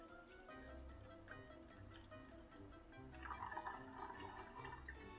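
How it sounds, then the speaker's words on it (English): Vinegar pours into a bottle while mixing an all-natural cleaner, a faint steady trickle and gurgle of filling liquid that grows fuller and busier toward the end, with no voices. "now once we get the vinegar in, you're going to see that your bottle is getting more and more filled up"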